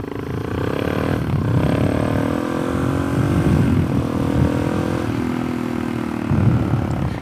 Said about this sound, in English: Oh yeah, I'll do a wheelie for you.